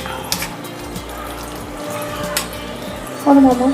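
Water splashes and pours steadily close by while rinsing during rasagulla making, with a louder gush near the end and a voice speaking over it.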